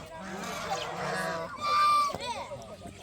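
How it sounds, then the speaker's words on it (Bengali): Domestic geese honk in a rural village yard in Sherpur, Bogura. Several nasal honks and calls come close and fairly loud, with people talking nearby. "এগুলো হচ্ছে রাজহাঁস"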